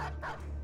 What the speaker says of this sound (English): I wanted the dog to go here and attack him.